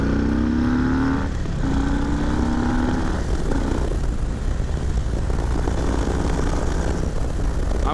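A 2020 Harley-Davidson Low Rider S being ridden on the road: a steady, loud engine drone with rising tones as it accelerates and shifts, heavy wind rush throughout and no talking.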